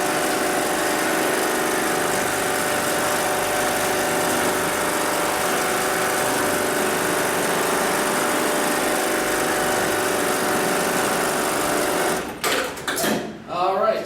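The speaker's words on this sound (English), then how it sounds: "I'm going to go ahead and tap the pedal on the left-hand side. That's going to initiate the sewing cycle" An automatic industrial sewing machine runs its sewing cycle with a loud, continuous high whir, then stops abruptly near the end with a few clicks and clunks as the thread is trimmed.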